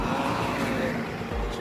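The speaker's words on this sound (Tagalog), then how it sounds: "Sobrang lakas na talaga ng hangin." Strong wind roars steadily against the rider of a Kawasaki Barako 175 motorcycle at speed, a continuous loud broadband rush with low rumble, no voices.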